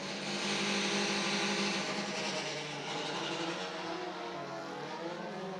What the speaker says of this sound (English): There is Fixer's car